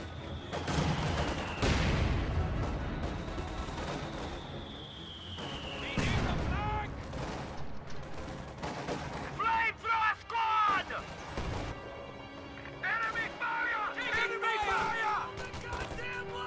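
An MG42 machine gun fires in a World War II video game. Rattling bursts and scattered shots pop amid explosions and battle noise, heard under steady commentary from someone talking.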